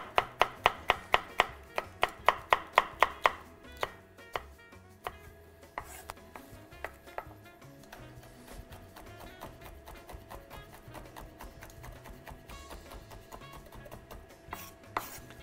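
A knife chops red, yellow and green bell peppers on a board, opening with a fast, loud run of sharp, evenly spaced cuts, then easing into quieter, scattered taps and scraping.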